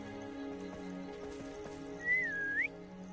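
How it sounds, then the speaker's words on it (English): A short, rising-and-falling whistle in the Hogwarts Legacy video game, quiet and brief over soft rainfall and a gentle musical background. "That was the quietest whistle ever."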